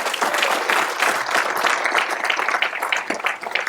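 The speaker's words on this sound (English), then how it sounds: "Let's give Kelly Miller a big round of applause." Breakfast-event attendees at a chamber of commerce gathering applaud loudly and steadily, a full room of dense clapping that swells slightly and thins near the end.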